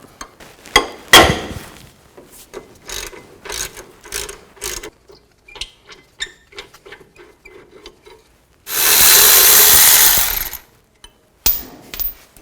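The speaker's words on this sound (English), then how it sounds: "You need to take these two bolts out. Use an 18mm socket. Loosen these up." A ratchet wrench with an 18mm socket clicks in short bursts with pauses between while loosening bolts on a 2000-2006 Chevy Tahoe's rear brake backing plate, followed by a loud few-second whir of a power tool, then another brief burst.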